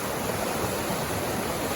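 Loud, continuous rushing water fills a mountain basin along a hiking trail, a dense, unbroken roar with no pauses.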